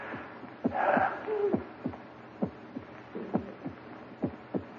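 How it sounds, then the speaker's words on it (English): A slow, steady heartbeat thuds repeatedly, low and muffled, with a brief breathy rasp near the start; no talking. "It's your heart. Beating, pounding, driving the blood through your veins."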